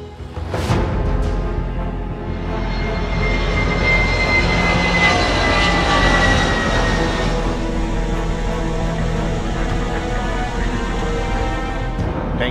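A Malaysia Airlines jet airliner in flight, its engines giving a loud, steady cabin roar with a broad whooshing rumble that holds constant throughout.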